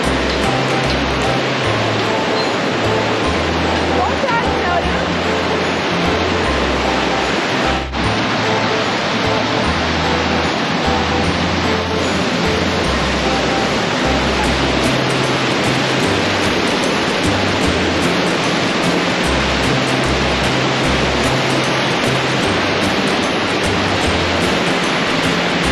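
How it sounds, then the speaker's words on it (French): A triple waterfall in Cappadocia, Turkey, gives a loud, steady broadband roar of falling water that continues throughout, with low rumbling underneath. "D'une magnifique cascade qui est 1, 2, 3 triplée, non pas doublée, mais triplée."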